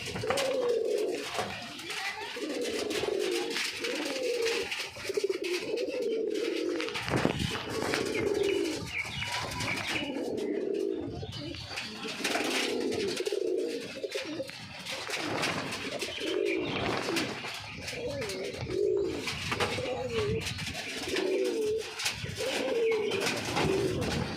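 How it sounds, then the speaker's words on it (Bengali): Pigeons kept by a fancier coo steadily in a loose, repeating rhythm close by, the soft throaty calls layered over one another for the whole stretch with a few brief chirps and wing sounds. "তো এখন দাদা দেখাবে যে কেমন ভুল মারে পায়রাগুলো"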